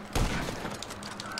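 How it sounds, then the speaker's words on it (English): A short, loud burst of assault rifle fire rings out in the GTA 5 video game, a dense crackling volley over a steady background tone. "Ow, that's a fucking assault rifle."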